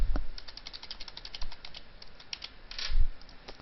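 Credit card number being typed on a computer keyboard, a quick run of close key clicks with a few heavier thumps, no talking.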